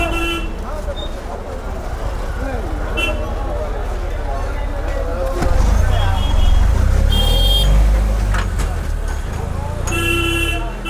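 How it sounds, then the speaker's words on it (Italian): Busy rush-hour street traffic at a market in India, with a steady rumble of engines and repeated car horns honking, loud and close, with voices mixed in. "Sentite il traffico all'ora di punta"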